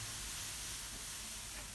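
Garlic sizzling in a frying pan while cooking a moussaka, a steady close hiss of frying that holds evenly throughout without pause.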